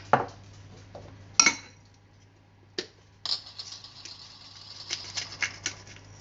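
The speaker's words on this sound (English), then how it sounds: "And stir that through." Salt and pepper stirred into a cauliflower casserole in a pan: a few sharp clinks and scrapes of a utensil against the pan, spaced out with quiet gaps, close and fairly faint.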